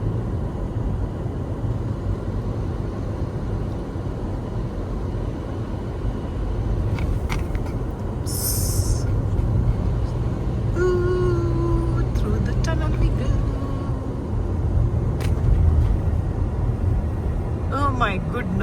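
A car drives steadily up the misty Going to the Sun Road in Glacier National Park, its low engine and road rumble continuous throughout while people talk over it.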